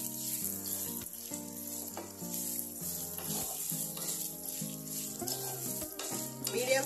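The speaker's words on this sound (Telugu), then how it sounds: "మీడియం ఫ్లేమ్ మీద పెట్టుకుని ఫ్రై చేసుకోవాలి." Cleaned, dried ginger fries in hot oil over a medium flame for a pickle, a steady close sizzle with occasional stirring scrapes throughout.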